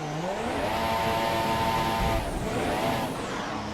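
F1 car in the F1 2017 video game, engine note sweeping up and down with a whining tire squeal during a spin, loud and continuous with no talk.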